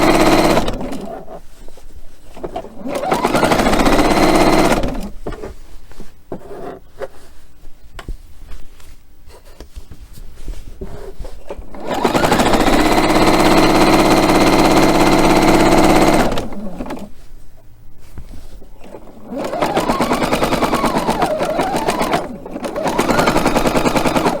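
Domestic sewing machine stitching straight through open quilt seams on a flying geese quilt block, running in loud, steady bursts with short pauses between runs and quieter handling noise in the gaps.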